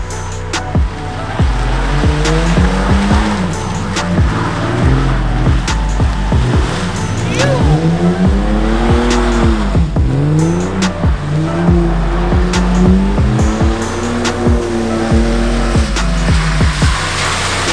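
A front-wheel-drive car drifts around a track with loud continuous engine roar that rises and falls, and tires squeal through long sliding passes, constant and close throughout.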